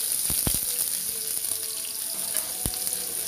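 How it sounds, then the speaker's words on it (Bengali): Chopped garlic and onion frying in hot oil for a leafy greens stir-fry give a steady close hiss of sizzling, punctuated by a few sharp clinks of a utensil against the pan. "ভিউয়ার্স, রসুন পেঁয়াজটা আমি ভাজা লইছি।"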